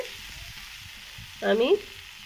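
Drumstick flowers frying in mustard oil give a faint, steady sizzle, broken near the end by one brief, squeaky tonal scrape.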